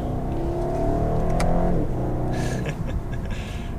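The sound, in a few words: BMW 750i xDrive turbo engine accelerating on on-ramp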